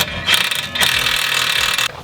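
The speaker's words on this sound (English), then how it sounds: "I'm gonna go ahead and shoot in that bottom bolt" Power tool driving in the big bottom strut bolt during a Mazda 3 lowering spring and strut install, a steady buzzing mechanical whir that runs for nearly two seconds with a brief dip partway through.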